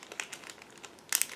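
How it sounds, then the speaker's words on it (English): Plastic Ziploc bag holding the molded parts of a 1/32 SB2C-4 Helldiver model kit, crinkling in a string of light, crisp rustles that end in a brief louder burst of crackling. "be careful while removing these parts out of the plastic bag"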